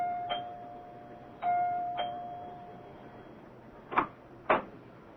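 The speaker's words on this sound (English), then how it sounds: "Dr. Lem Regan rings the doorbell of Clyde Wilkins' house" A house doorbell rings in a quiet room, with a steady tone and a few clicks early on, then two sharp chimes close together near the end.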